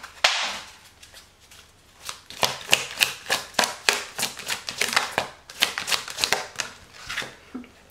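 Tarot cards are shuffled by hand up close, a long run of quick, crisp riffling flutters and soft slaps coming in rapid bursts, alone with no speech.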